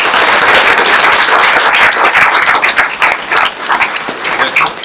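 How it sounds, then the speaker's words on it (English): Loud, dense applause from a large crowd at a school board meeting, steady throughout with no pauses. "Would you please give them a round of applause?"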